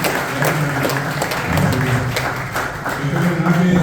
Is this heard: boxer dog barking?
no